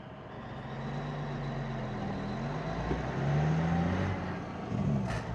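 Diesel engine of a Peterbilt 359 truck with the Jake brake on, a steady low rumble with rising and falling pitch as the rig pulls through gears, swelling louder midway, heard from inside the cab.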